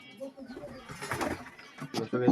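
Soft, low coos from local Giribaz and desi pigeons repeat through the short clip, mixed with rustling and faint voices nearby at a pigeon farm.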